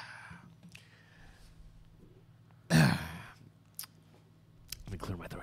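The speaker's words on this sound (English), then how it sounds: "Let me clear my throat here." A single short, rough throat clearing bursts out near the middle, close and fairly loud, with a quieter sniff or click after and faint rustling around it.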